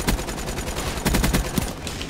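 Razorback gun firing in Call of Duty Black Ops 3 multiplayer, a rapid automatic stream of loud, close shots in quick rhythmic bursts with brief gaps.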